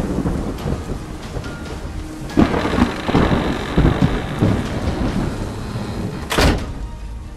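Heavy rain pours down in a steady, dense roar while thunder rumbles low underneath, swelling and fading with occasional sharper cracks, loud and continuous throughout.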